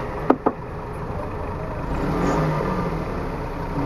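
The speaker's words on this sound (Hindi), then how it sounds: "थोड़ा सा रेव करें पीछे से, मैं इधर साइलेंसर की आवाज़ सुना रहा हूँ।" Small 660 cc engine of a 2015 Suzuki Stingray revving at the rear, its exhaust rising into a steady, moderately loud drone after two short knocks near the start.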